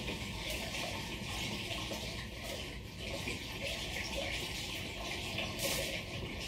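Wort splashing and pouring into a fermenter during homebrewing of a kveik-fermented pale ale, a continuous foamy watery rush that stays steady and close throughout, with no voices.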